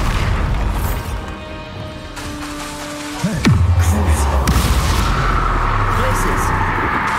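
A booming Bombarda spell explosion in the video game Hogwarts Legacy, a sudden heavy blast midway with a falling rumble after it, set amid ongoing game noise while a person talks over it.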